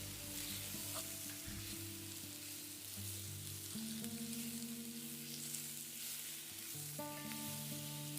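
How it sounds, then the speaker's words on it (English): Mushrooms frying in melted butter and olive oil in a pan over an open braai fire at Cape Agulhas, a steady close sizzle with occasional crackles and a low hum running throughout, no talking. "Just want to melt my butter a little bit, and then I'll throw the mushies in."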